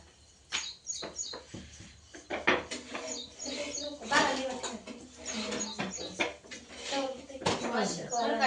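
Steel plates, bowls and a pressure cooker clatter and clink in irregular bursts as they are scrubbed and washed in a home kitchen, close by, with a voice talking over the work.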